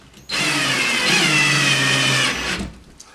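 A power drill drives a screw into a hole while installing a hand towel ring, a steady close whine lasting a couple of seconds before stopping.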